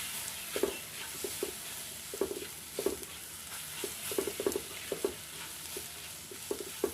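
Modak mixture cooking in a pan over a low flame, stirred with quiet scraping strokes in an irregular rhythm over a faint, steady sizzle, close but soft.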